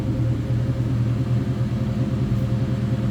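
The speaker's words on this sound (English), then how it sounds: "Nice throaty exhaust note." A 1998 Ford Mustang SVT Cobra idles with a steady, throaty low exhaust rumble, close and continuous without a break or voice.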